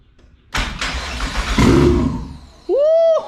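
A Nissan GQ Patrol with a turbocharged Barra engine cranks and fires for its first start, a loud burst of combustion and roughness, then a rising whine as it settles and revs.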